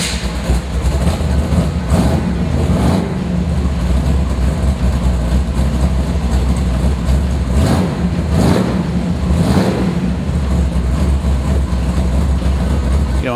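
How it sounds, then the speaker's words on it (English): A 1956 Chevrolet Nomad pro touring wagon's engine runs loud and close, a steady deep rumble with a few rising revs. "How about I go ahead and start it for you and you hear what it sounds like."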